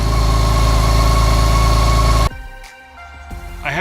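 A BMW K1600 motorcycle engine idles loud and close with a steady, smooth hum just after starting, then cuts off abruptly, leaving near quiet with a few faint clicks and handling noises.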